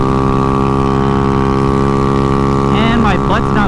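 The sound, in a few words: Honda Ruckus scooter engine and exhaust while riding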